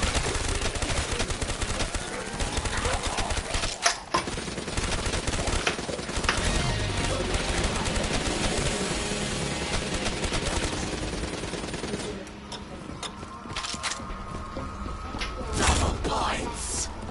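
Rapid, heavy gunfire in Black Ops 3 Zombies with an unlimited-ammo weapon, loud continuous automatic bursts with a short break and metallic clanks, and voices talking over the shooting.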